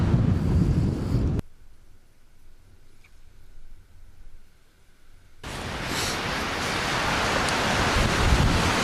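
Wind buffets the microphone on a beach at Malpasso during shore fishing, a loud broadband roar that drops away briefly in the middle before returning strongly.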